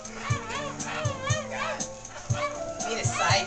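Dog yipping and whimpering in short sharp bursts, close by, mixed with excited voices of people talking over it.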